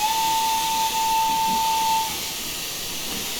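A steam locomotive whistle from an LB&SCR K Class 2-6-0 in Train Simulator Classic blows one steady, loud, clear tone for about two seconds over constant steam hiss, then cuts off, leaving the hiss alone.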